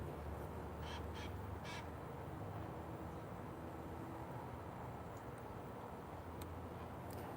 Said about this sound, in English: The parrots have arrived.